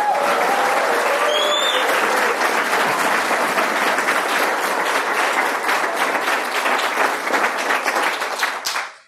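A large audience applauds Walter Block, the Mises Institute chess champion, with sustained, dense clapping that stays loud and steady before cutting off abruptly at the end, with a few faint whistles early on.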